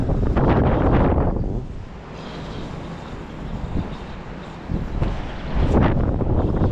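Wind gusting across a microphone on a riverbank during bottom-rig fishing for ide, a loud steady rumbling roar that eases in the middle and swells again near the end, with no voices.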